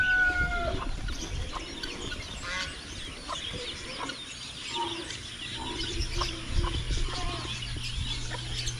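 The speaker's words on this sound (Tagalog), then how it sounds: "Yung iba nating manok, andito lang." Free-ranging chickens on a small farm foraging for worms, clucking and squawking near and far amid other fowl calls, with a low background hum and faint rustling.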